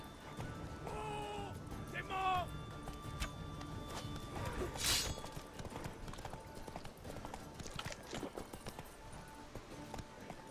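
A horse gallops in The Witcher 3, with hooves clip-clopping in a quick rhythm, a whinny partway through and a sharp crash near the middle, while someone talks over the game sounds.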